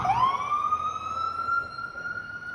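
An ambulance siren wails steadily nearby on a street, one long rising then held tone that stays loud and clear throughout, with faint traffic rumble beneath and no talking.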